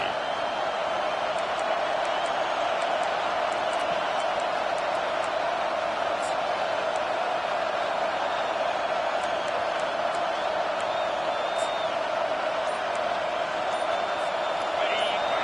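A large football stadium crowd roars continuously, with sustained cheering and whistles, and a voice talking over the noise.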